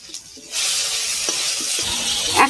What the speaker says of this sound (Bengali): পাকা টমেটো দিয়ে দিচ্ছি একখানা। ভালো করে ভেজে নেব।